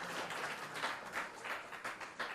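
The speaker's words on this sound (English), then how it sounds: "Can we give another round of applause for everyone who's hit this mic?" Audience applause at a town hall meeting on housing, a steady wash of many hands clapping at moderate distance, with faint swells and no one speaking over it.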